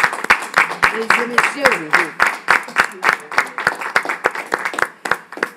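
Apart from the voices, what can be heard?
audience applauding dancers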